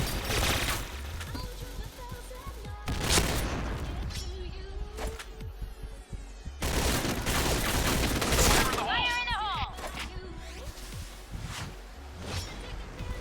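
Video-game gunfire from a G11 Recamo rifle: repeated loud bursts and rapid volleys with whooshes and impact crashes, running almost continuously with a brief lull in the middle.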